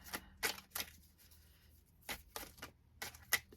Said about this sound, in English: Let me just finish shuffling here